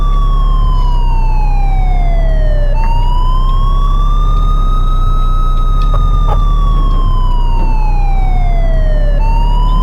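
An ambulance siren in the emergency-driving video game Sim Emergency Driver wails loud and close. Its pitch sweeps up and down in long cycles over a low engine drone.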